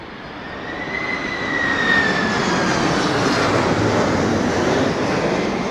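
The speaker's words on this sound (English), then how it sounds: "hey look, 767. Now watch the front tilting undercarriage on this" A Boeing 767 roars in at London Heathrow during a storm, a loud, steady engine rush with a faint rising whine, heard up close and alone.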